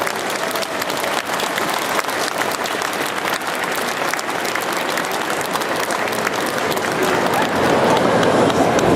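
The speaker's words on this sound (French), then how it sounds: "Franchement, applaudissez-le parce qu'il le mérite" Loud, dense crowd applause at a May Day political rally in Belgium fills the whole stretch without a break, swelling a little louder toward the end, with no voices standing out above it.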